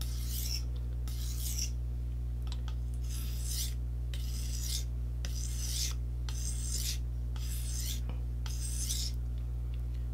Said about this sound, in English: Now I go to a 6 stroke strop.